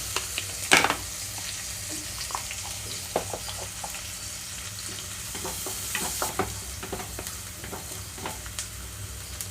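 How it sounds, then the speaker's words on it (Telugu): Bottle gourd curry base with turmeric frying on a medium flame, a soft steady sizzle under intermittent scraping stirs, with one sharp clatter early on. "స్టవ్ని మీడియం ఫ్లేమ్లోకి టర్న్ చేసి ఒక రెండు నిమిషాలు వేయించుకుంటున్నాను"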